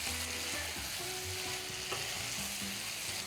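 Chicken stir-fried with basil being mixed in a pan: a soft, steady sizzle with intermittent spatula scrapes and stirring, fairly quiet and close.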